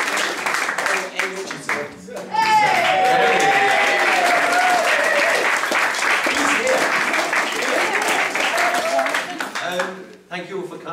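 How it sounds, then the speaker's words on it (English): An audience at a charity literary reading event applauds for two absent writers, a full, sustained round of clapping with cheering voices and whistles over it, tapering off near the end. "a round of applause for two writers who are not here today, Graham Jameson and Sylvester"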